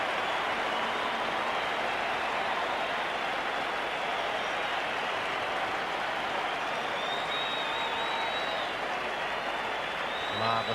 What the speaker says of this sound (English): Marvellous response from the crowd there.